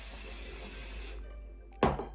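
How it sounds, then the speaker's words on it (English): A steady hiss of spray from an aerosol can runs for about a second, then cuts off, followed by a brief clatter of something being set down. "I'm going to spray it with hairspray."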